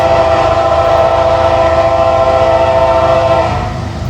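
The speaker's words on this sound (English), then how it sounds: "It looks like we got CSX coming." CSX freight train sounding its horn while passing near Princeton, Indiana: a loud, sustained horn blast over rumbling wheels and cars, fading slightly at the end.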